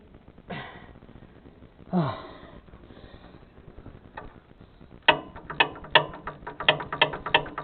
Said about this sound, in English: See how well ratchet wrench works on this.